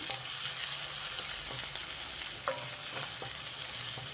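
Onions sizzle and fry steadily in a pan with occasional stirring clinks, a continuous close hiss with no talking, while a lentil and coconut curry is being prepared.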